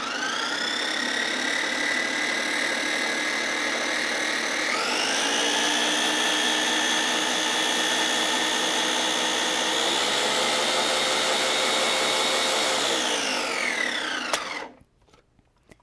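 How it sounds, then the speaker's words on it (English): A countertop blender purees cheesecake filling with a loud, steady motor whine. The pitch steps up partway through, drops again later, then the motor cuts off abruptly near the end, leaving quiet. "And now we're going to puree everything. So we'll pop our lid on."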